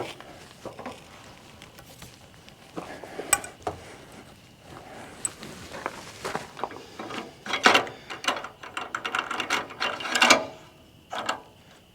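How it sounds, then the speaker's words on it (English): A Logosol cant hook shifts a log on a Logosol F2+ sawmill with scattered metallic clanks, ratchety clicks and wooden knocks that grow busier and louder toward the end, with no talking. "now I'm going to reposition the log for my second cut here, and I'm using the Logosol cant hook"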